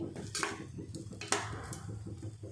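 Rice mixed with pickle and a pinch of salt is stirred in a pan, a steady run of soft scraping and clinking from a spoon against the pan, close up, with a few sharper knocks and no talking.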